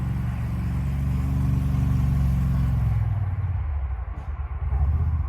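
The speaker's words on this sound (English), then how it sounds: "Lots of people driving around here in golf carts." Golf carts drive around near an outdoor yoga session in the Rocky Mountains, a steady close motor hum and rumble that cuts off partway through, leaving quieter rough background noise.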